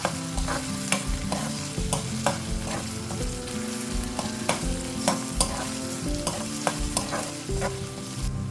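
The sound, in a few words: ginger garlic coriander paste frying with onions in oil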